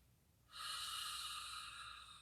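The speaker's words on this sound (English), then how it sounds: "3 audible exhales." A single forceful, breathy exhale during yoga breathing practice rushes out close and steady, trailing off slowly after a quiet start.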